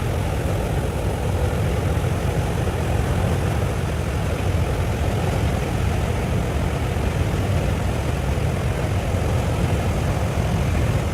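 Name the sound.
aircraft noise aboard a Boeing 757 with door blown off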